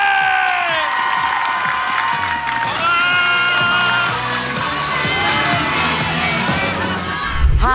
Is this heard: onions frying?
no